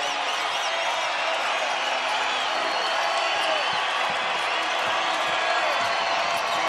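A basketball arena crowd on its feet cheering New Mexico in a Mountain West men's quarterfinal, a dense, steady roar of voices and whistles filling the whole stretch without letup.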